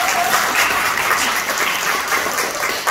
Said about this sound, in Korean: 함께 박수로 받아주십시오.